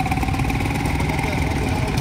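A Deutz T40 tractor engine runs steadily at a tractor show, a continuous low, throbbing rumble that stays loud and close for the full two seconds with no clear pauses.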